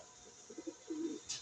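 Pigeons kept by a fancier coo softly in a few short, low throaty phrases, faint and close, ending with a brief rustle.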